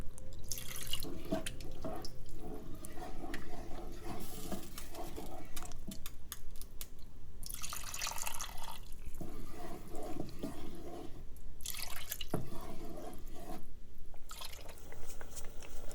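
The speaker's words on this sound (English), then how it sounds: "Next, I slowly add the beef broth and keep stirring." Beef broth being poured into simmering red wine and stirred, heard as a continuous liquid splashing and dribbling with intermittent clinks, close and fairly steady throughout.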